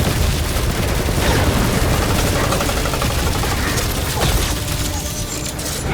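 Dense, continuous gunfire in the Guardians of the Galaxy game: loud rapid shots and impacts layered with game effects, while voices talk underneath.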